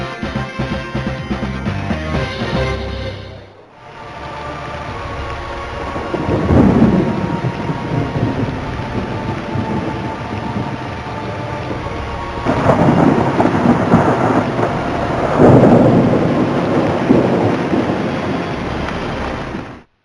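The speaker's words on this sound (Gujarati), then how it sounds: "દક્ષિણ, મધ્ય અને ઉત્તર ગુજરાત સહિત સૌરાષ્ટ્રમાં મેઘરાજા મન મૂકીને વરસી રહ્યા છે." Heavy monsoon downpour over Gujarat and Saurashtra, a loud continuous roar of rain broken by deep rolling thunder that swells twice, once early and again more strongly later, with no voices.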